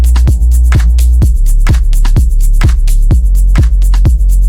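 A loud EDM synth bass line drives a steady pulsing pattern of repeated plucked notes, with sharp transients on each beat over a dense, sustained low-end drone, with no voices.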